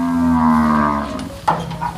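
A cow on a Thai cattle farm lets out a long, loud, close moo, followed by a quieter second lowing call.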